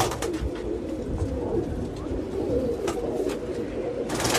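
Khaki pigeons in a loft at a new house coo steadily and close by, with a low rolling murmur of several birds overlapping throughout and occasional brighter rustles or flutters.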